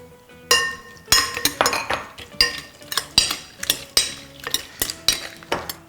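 Repeated clinking and scraping of utensils against a dish as sliced sea snail is tossed with salt, sugar, soy sauce and chili oil, bright close clatter in quick irregular bursts with no talking.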